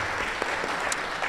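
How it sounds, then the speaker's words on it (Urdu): Audience at a gathering applauding to welcome a guest, a steady wash of clapping from many hands at moderate distance, with no voices over it. "تمام احباب دوست تالیاں بجا کر ان کا خیر مقدم کریں۔"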